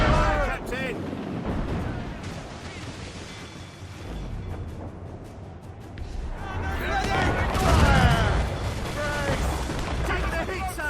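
Ship cannons fire in Assassin's Creed Rogue, with deep booming blasts and rumbling surges, the heaviest volley near the end, mixed with shouted crew voices and a game soundtrack.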